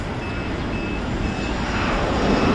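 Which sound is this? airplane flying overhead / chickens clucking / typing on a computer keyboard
airplane flying overhead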